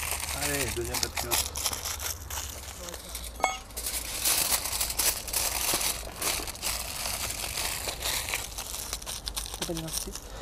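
A paper slip is unfolded close by, its crinkling and rustling running through the whole stretch while people talk over it.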